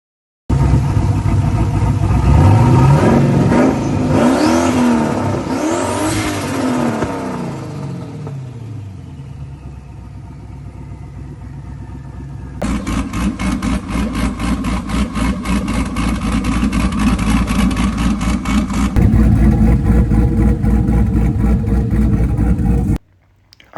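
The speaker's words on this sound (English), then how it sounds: "those were just some quick clips of how the Camaro was running after that tubular front end and the new turbo" Turbocharged 2001 Camaro SS with a tubular front end, its engine loud and close. It revs up and down with rising and falling pitch, settles into a lumpy idle, then runs again with a steady rough pulsing rumble.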